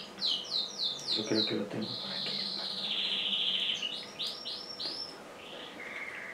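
House sparrows chirp in quick bright bursts and a longer trilling run, close by in the countryside of Salamanca, with someone speaking Spanish underneath.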